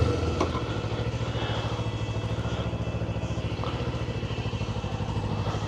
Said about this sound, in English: I'll ride around on the little scoot bike and get all warmed up on this.